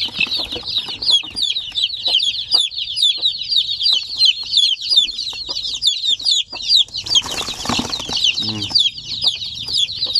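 Native chicks and hens of the Zampen breed cheep and cluck continuously in a dense, overlapping chorus, with a brief burst of wing flapping and scuffling partway through and a low hen cluck near the end.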